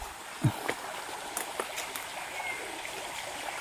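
River stream flowing near the Batok Bolu site in the Alas Ketonggo forest, Ngawi, a soft, steady wash of moving water with a few faint splashes and knocks, heard from nearby at low volume.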